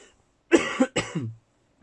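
A short pair of close, rough coughs in quick succession, followed by a brief throat-clearing rasp, then quiet.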